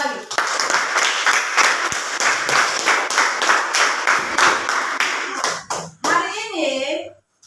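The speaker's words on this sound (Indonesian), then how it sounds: "Kita tepuk tangan 1 kali lagi" A class of children in a classroom claps in a quick rhythmic patter for several seconds, then breaks into excited chatter and cheering.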